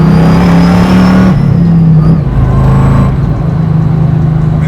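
A 700 hp supercharged Chevrolet Camaro Z28 restomod with a six-speed accelerating hard, its loud, close engine note holding a steady drone, easing briefly and then pulling again, with no talking over it.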